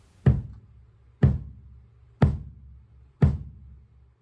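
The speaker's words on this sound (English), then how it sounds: "Here I am drawing 4 quarter notes on the kick" Four evenly spaced kick drum hits sound alone against silence, each a punchy low thump with a short decay.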